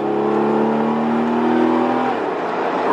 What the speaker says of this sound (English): You really get that sound of the exhaust coming in.